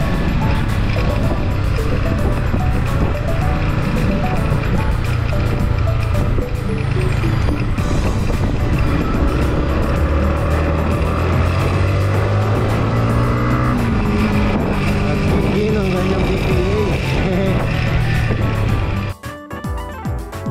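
A 2023 Yamaha MT-15 engine droning steadily while riding, with a loud continuous hum that rises and falls with throttle and shifts and dips at the end, plus wind noise and no talking.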